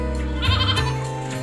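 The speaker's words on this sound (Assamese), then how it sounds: "স্ক্ৰীনত যিকেইটা ছাগলী আপোনালোকে দেখিবলৈ পাই আছে গোটেইকেইটা হৈছে খাহী ছাগলী" Castrated male goats on a farm in Tezpur, Assam: a single loud, close bleat wavers and drags on for over a second, with no talking.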